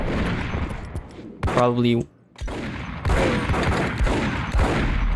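Gunfire in the video game Max Payne: a dense burst of rapid shots, then more bursts of gunfire continuing under excited talk.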